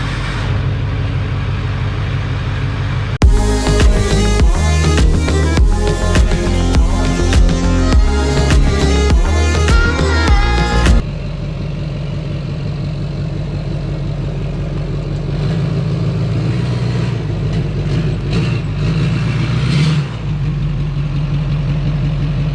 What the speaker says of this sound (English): We are starting the truck on one battery